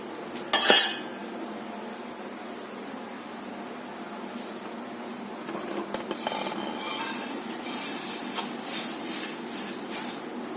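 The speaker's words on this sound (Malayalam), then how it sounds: "ഞാൻ സ്റ്റൗ ഓഫ് ചെയ്ത് നമുക്കിനി തണുക്കാനായിട്ട് ഒരു പ്ലേറ്റിനകത്തേക്ക് കുടഞ്ഞിടാം" Roasted rice flakes tipped from a hot pan onto a plate for cooling: one sharp metallic clatter, then a low, steady rustle and scrape as flakes slide and settle, growing busier toward the end.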